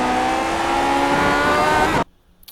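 A Lotus 49 race car engine in the iRacing sim screams loud and sustained at high revs, then cuts off abruptly as the throttle is lifted, leaving near silence with faint ticks.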